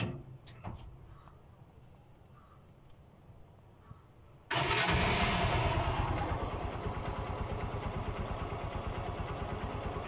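A Honda TMX Supremo motorcycle engine cranks and fires up about halfway through, then settles into a steady, loud, close idle with a rapid regular putter after a quiet stretch.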